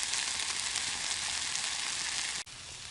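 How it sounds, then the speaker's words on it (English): Steaks sizzle on a grill over an open campfire, a steady dense frying hiss that holds loud and even throughout, with a brief dip near the end. "Grill's heating up. I'm gonna put the steaks on soon."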